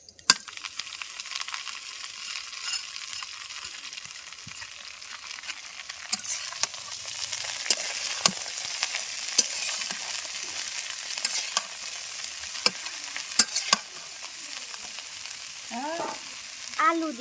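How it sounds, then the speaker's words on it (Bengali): Drumstick flowers sizzle and fry in hot oil with onion and chili in a pan, a steady crackling hiss broken by brief stirring scrapes, continuing unbroken with no talking. "সাজনার ফুল দিয়ে আলু দিয়ে ভাজবো"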